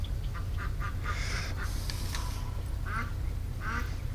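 A pet duck named Disco quacks while being held tightly, giving several loud, harsh quacks in short bursts over a steady background hiss.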